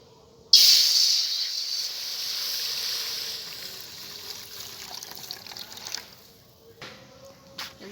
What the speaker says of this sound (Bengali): কড়াইতে জল দিয়ে দেব।